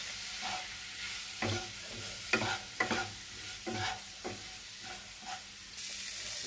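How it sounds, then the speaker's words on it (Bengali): A spoon stirs vegetables coated in cumin, coriander, chilli and turmeric powders as they fry in a pan: repeated scraping strokes in an uneven rhythm over a continuous soft sizzle, close up with no talking. "সবজিগুলো মিক্সড হয়ে গেছে মশলার সাথে এবং একটু হালকা ভাজা ভাজাও হয়ে গেছে"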